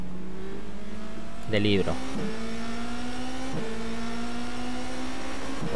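A race car in the rFactor 2 simulator locks its brakes, giving a brief harsh tire-scrub burst over a steady droning engine tone that shifts pitch as gears change, with someone talking over it.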